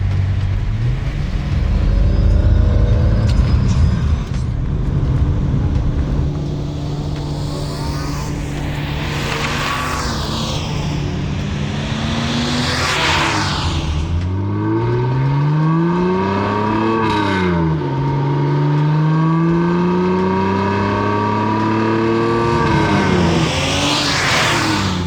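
A BMW E30 engine revs hard through a newly installed exhaust with a raspy, metallic note, rising and falling in pitch through several loud pulls, over a rumbling idle.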